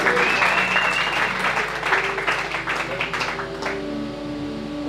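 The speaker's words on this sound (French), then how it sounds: "Est-ce qu'on peut acclamer très fort?" A church congregation applauds loudly, a dense, sustained wash of clapping that thins out toward the end, with a faint held tone lingering underneath.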